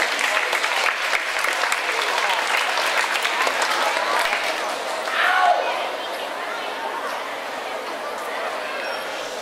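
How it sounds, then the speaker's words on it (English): An audience gives performers steady, loud applause with some crowd chatter mixed in, gradually thinning toward the end. "Please give them a big round of applause."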